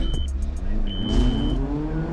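U1 kit rally cars launch hard off the line at a race start, engines revving loudly with a brief tire chirp, close and aggressive with no talk over them.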